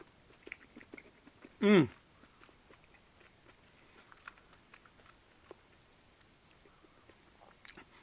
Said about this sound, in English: Like every bite of it, I can hear and feel sugar crystals crunching.